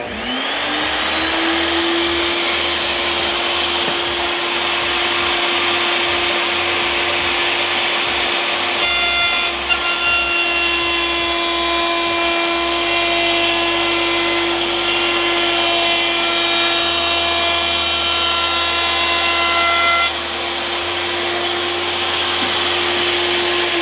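A woodworking router with a top-bearing bit cutting wood. It winds up to a loud, steady high-pitched whine and holds it, with the cutting noise shifting as the bit moves through the wood. No talking.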